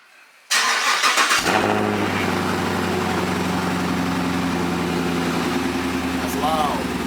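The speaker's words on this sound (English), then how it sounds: "Let me get a cold start for you, man." A Chevrolet Camaro cold start: the engine cranks briefly, catches with a sudden loud roar, then settles into a heavy, rumbling idle close by, with a voice faintly heard near the end.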